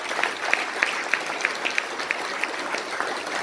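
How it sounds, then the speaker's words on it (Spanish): An audience at a Panamanian boxing event claps steadily, a dense, even patter of many hands at moderate distance without cheering. "para que les pido un fuerte aplauso"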